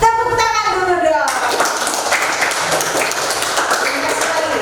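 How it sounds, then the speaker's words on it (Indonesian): A class clapping hands together, a burst of rapid, fairly loud clapping from several people sustained for a few seconds after a short spoken line, with voices mixed in. "Iya, tepuk tangan dulu dong."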